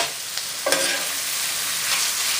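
An onion and mushroom mixture stirred in a hot pan, with a steady soft sizzle and a couple of brief utensil scrapes and clinks near the start, close and alone without talk.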